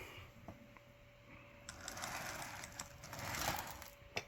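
A vintage model train locomotive running on track during a restoration test, a faint mechanical whir and clicking that grows busier and louder toward the end.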